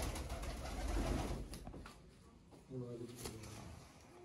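A red-eyed breeder pigeon gives a short burst of low cooing near the end, after a stretch of muffled background noise and talking.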